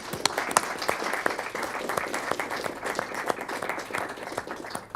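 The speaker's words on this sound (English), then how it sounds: "Can we give them a round of applause?" Sustained applause from an audience at a city council meeting in Fair Oaks Ranch, dense steady clapping filling the room for the whole stretch, with no speech over it.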